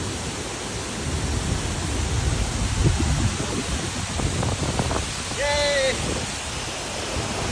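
Mother Falls waterfall at Ditumabo, San Luis, Aurora, roars as a steady broadband rush, close and full, with excited voices and a cheer over it.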